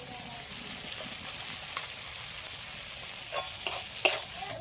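Taro greens frying in a pan with turmeric, chili powder and grated coconut, a steady soft sizzle with a few sharp stirring scrapes and clinks near the end.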